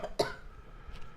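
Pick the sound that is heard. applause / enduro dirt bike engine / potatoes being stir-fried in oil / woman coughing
woman coughing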